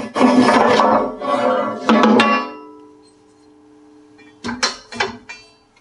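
Metal tube bender die being pulled out of the frame of an M625 rotary draw pipe bender, giving short bursts of scraping and clunking metal, a longer rasp at first, then a pause and a few quick clanks close by.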